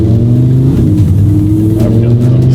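The straight-piped exhaust of a barn-find Ferrari with a dual-clutch gearbox hums steadily from inside the car, a loud, droning engine note holding fairly constant with slight rises in pitch.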